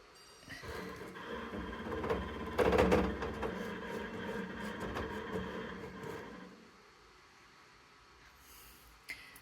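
An embroidery machine stitches a cap, a steady, close mechanical whirr with rapid needle rhythm that runs for several seconds and then stops, leaving quiet.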